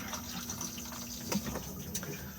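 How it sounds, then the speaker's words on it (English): A cassette toilet in an Auto-Sleepers Symbol Plus motorhome flushes, giving a steady wash of running water with a brief louder gurgle partway through, close by and with no voices. "push to flush"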